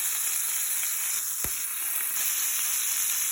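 Flipped sausages in a frying pan hiss with a loud, steady sizzle, broken by one sharp knock or pop midway as the sizzling carries on unbroken.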